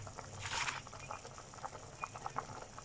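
Sinigang beef soup with pechay simmers in a pot, giving faint, irregular bubbling pops and soft patter over a quiet background, with one brief louder splashy burst near the start.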